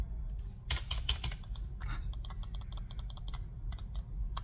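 Computer keyboard keys tapped in an irregular run of crisp clicks during spreadsheet work, close and fairly quiet, with no talk over them.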